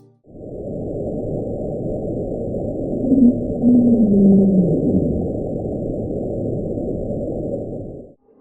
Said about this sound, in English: it's the sound of friction coming from a gigantic iceberg running aground, and the deep rumblings echoing through the ocean